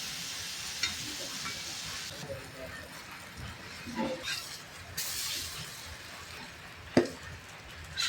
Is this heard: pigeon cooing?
no